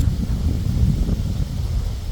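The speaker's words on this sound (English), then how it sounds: "it's howling a gale, so it's windy always" Strong gale wind buffeting the microphone at sunset in remote Western Australia, a steady low roaring rush with constant gusty turbulence throughout.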